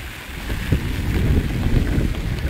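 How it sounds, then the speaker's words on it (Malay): Strong wind at a rainy beach campsite at Pantai Sepat, Kuantan, buffets the microphone with a loud, rough, low roar that surges and gusts without pause. "Angin kuat guys."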